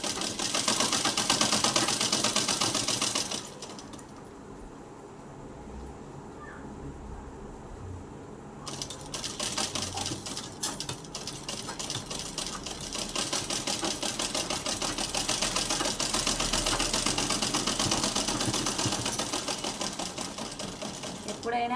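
An electric sewing machine stitches the hem of a satin petticoat, a fast steady whirring run that stops for a few seconds and then starts again, with a voice talking under the machine noise.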